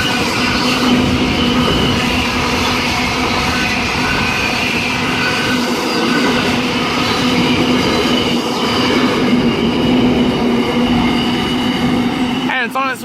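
A freight train with trailing locomotives NR19 and 9305 passing Paterson station in New South Wales: a loud, continuous rumble of wagons and wheels on track, with steady clatter and a squeal at the end, heard close by.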